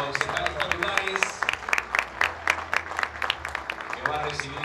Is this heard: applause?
yes